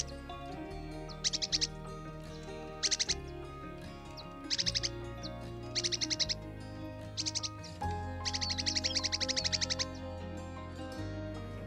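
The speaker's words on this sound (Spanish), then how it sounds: "Este ambiente es ideal para el picuí plomizo, ave que es más fácil de oír que de observar." A picuí plomizo bird calls in a coastal woodland setting, giving several short, bright trilled bursts at irregular intervals. The calls sound over a soft, sustained tonal background.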